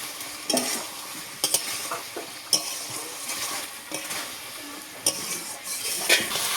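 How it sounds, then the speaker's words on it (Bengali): Fried potatoes are stirred into cooked meat in a pan, with a soft steady sizzle under repeated sharp scrapes and clinks of a spoon against the metal, close up and with no talking. "এখন আমি এতে ভেজে রাখা আলুগুলো দিয়ে দেবো। ভালোভাবে নেড়ে দেবো।"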